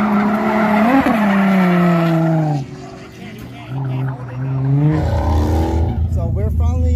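A Mazda RX7 drifting on track at Atlanta Motor Speedway, engine revving loud and close with screeching tire squeal as it slides, pitch rising and falling, while a voice talks over the noise.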